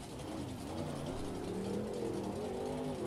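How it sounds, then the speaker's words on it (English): A monster truck engine revs steadily in Rigs of Rods Monster Jam freestyle play as it throttles into a donut, giving a continuous rough drone with rising pitch and no talk. "he's throttling it into a donut"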